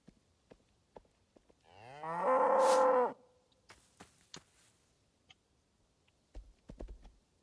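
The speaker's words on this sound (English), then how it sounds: "Hello, Mr. Cow." A cow in the survival game Rising World lets out one loud, drawn-out moo lasting about a second, followed by scattered soft clicks and light taps.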